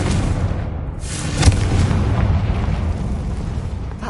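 A Confringo blasting spell cast in a Harry Potter video game, heard as a steady, dense rumble with a short sharp burst partway through, continuing as a sustained low roar without speech.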